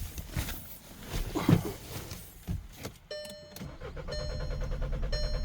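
A Volkswagen Passat engine cranks with uneven mechanical thumps, briefly catches, then dies, followed by a steady electronic tone and a low, fading hum.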